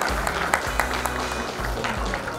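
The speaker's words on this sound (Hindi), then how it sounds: "क्या थोड़ी तालियां मिल सकती है हमें?" Applause from an audience at the Delhi God Gift Ratna Award 2019 ceremony, a sustained wash of clapping over a low hum of music or room noise, fairly even in level for the whole stretch.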